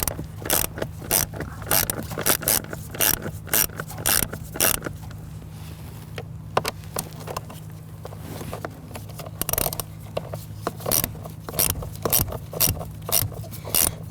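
Hand ratchet snugging down screws on a Toyota Camry HVAC blower motor, a close, steady run of rapid clicking strokes in bursts with short pauses, over a faint low hum.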